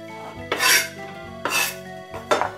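Thinly sliced tuna dropped into a bowl in three separate soft, wet slaps, each with a brief clatter of utensil against the dish, close and clear with no talking.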